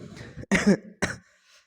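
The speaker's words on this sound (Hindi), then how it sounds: "सॉरी खांसी आ रही मुझे" Two or three sharp, close coughs in quick succession, then quiet.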